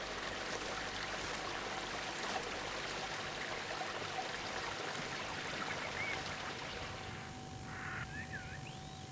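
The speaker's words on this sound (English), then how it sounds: "The Clwyd trickles down between the trees on the high hills." Small River Clwyd trickling between trees on high hills, a steady broadband wash of running water with no pauses, close and even throughout.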